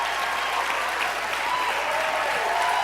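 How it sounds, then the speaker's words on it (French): A studio audience at a live reality-show gala claps steadily and continuously, a dense unbroken wash of applause close and loud from start to finish. "Je pense que ça te fait du bien, ces applaudissements-là"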